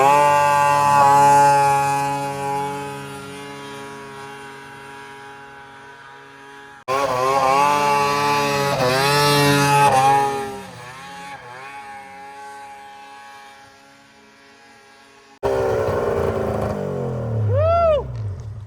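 1990s triple-cylinder Arctic Cat snowmobiles running outdoors, engines droning and revving in several passes with rising and falling pitch, one sled sweeping past near the end.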